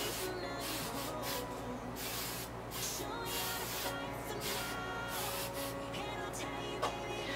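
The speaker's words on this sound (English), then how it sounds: "use a little bit of my Tresemme Tray 2 hairspray to finish it all off." Tresemme hairspray is sprayed onto hair in a string of close, loud hissing bursts, some short and some drawn out, with brief pauses between them.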